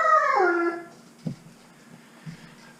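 A Great Dane howls indoors, a loud wavering moan that slides downward and fades, followed by faint low sounds and a quiet pause.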